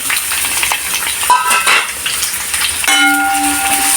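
Chopped onions tipped into a hot frying pan for kappa biryani, a loud broadband sizzle with a sudden surge partway through as they hit the oil, then a steady hissing fry with faint tonal ringing from the pan.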